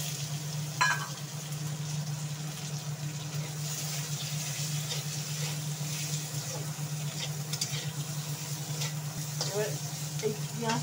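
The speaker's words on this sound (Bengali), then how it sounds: "এবার একটু মশলা পাঁচফোড়ন দিয়ে ফোড়ন দিচ্ছি, তেজপাতা, শুকনো লঙ্কা, জিরে, পেঁয়াজ, টমেটো" Panch phoron, bay leaf and dried chillies sizzle in hot oil for a katla fish curry, a steady close frying hiss with a low hum beneath, while a person speaks over it.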